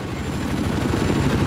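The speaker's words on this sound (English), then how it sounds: "I've been in this helicopter for about 12 minutes at this point." A Hind attack helicopter in a video game, its engine and rotor giving a steady, loud, continuous drone with a dense low-frequency throb and no speech over it.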